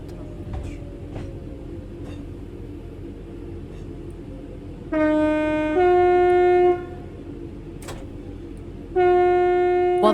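Loud blasts of a train horn from the Train Sim World 4 game: one two-tone blast held for almost two seconds, then a third shorter blast after a pause, all over a low rolling rumble of the train.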